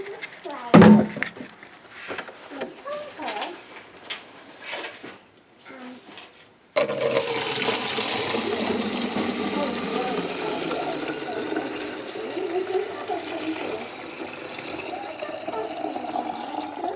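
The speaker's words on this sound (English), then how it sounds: "once it's all mixed up, just pour it in the bottles" Mixed milk formula being poured into pint-measured farm feeding bottles, a steady sustained liquid pour running for several seconds after an earlier stretch of handling noises and talk.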